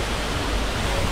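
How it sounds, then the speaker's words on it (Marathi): A waterfall tumbles from above in dense forest at the Bhuibawda ghat near Gaganbawda, giving a close, loud, even roar that holds steady throughout, with no talking. "हा जो वरून येतो ना धबधबा"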